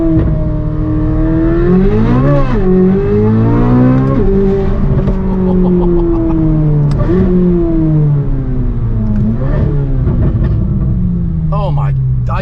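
A Corvette C8 Z06 fitted with a titanium race exhaust revs hard and close, its engine note sweeping up and down repeatedly in loud, sustained bursts with crackles near the end.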